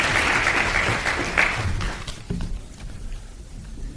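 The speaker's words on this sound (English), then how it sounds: "Et sous vos applaudissements," Audience applause at an exhibition opening, a dense clapping crowd for about two seconds that then thins into a few scattered claps and thuds as it dies away.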